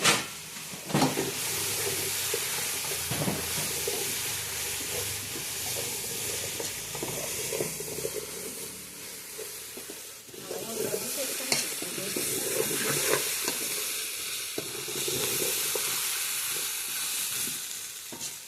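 Green chillies fry in hot oil in a pan while being stirred, with a steady loud sizzle and hiss broken by scraping stirs and ladle knocks throughout.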